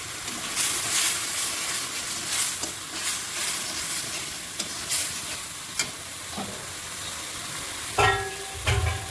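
Mustard paste and green chilies cook in a pan with added water for a fish curry, a continuous soft bubbling sizzle broken by intermittent utensil scrapes and clinks, with a sharper clatter toward the end.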